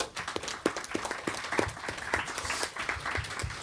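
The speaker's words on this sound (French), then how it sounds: "Je pense qu'on peut l'applaudir." An audience at a conference session on economies breaks into applause, with a fairly quiet, even patter of many hands clapping that carries on steadily.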